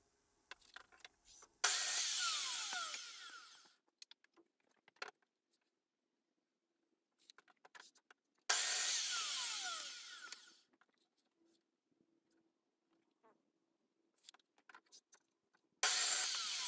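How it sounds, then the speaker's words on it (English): A power saw cuts wooden upright pieces for a rabbit tractor frame in three loud bursts of several seconds each, with quieter clatter and handling noises between the cuts. "And now I'm cutting six upright pieces, each 68 centimetres long."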